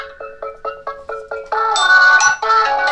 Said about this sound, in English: I'm going to decline my wife's phone call for 1 minute